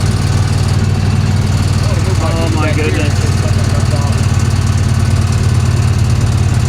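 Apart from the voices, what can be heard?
1966 Chevy Impala engine running rough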